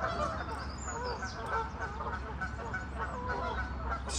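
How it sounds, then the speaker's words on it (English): Noisy geese on a misty lake on a cold spring morning, calling in a continuous overlapping chorus of honks at middle distance, steady and fairly loud against a soft outdoor background. "Misty mornings on the lake and noisy geese."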